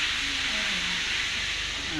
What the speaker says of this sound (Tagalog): nagpiprito po yung misis ko